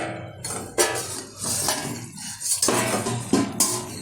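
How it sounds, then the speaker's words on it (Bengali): A metal pot lid is lifted and set down over simmering jackfruit curry, giving a few close, sharp clinks and clatters spread through the moment with no talk. "ঢাকাটা তুলে দিচ্ছি"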